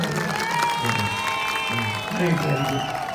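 A crowd at a temple festival applauses after a Valli Kummi folk dance in Neelambur, a steady wash of clapping running under a voice and sustained musical tones.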